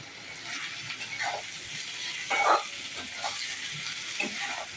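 Okra (bhindi) fries in a pan with a dusting of roasted cumin and coriander powder, a steady sizzle broken by several scraping stirs, one louder near the middle.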